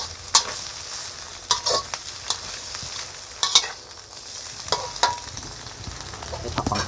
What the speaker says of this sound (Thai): เอาไข่ผัดกับหมูในกระทะแล้วนะครับ ใส่ผักลงไปนะครับ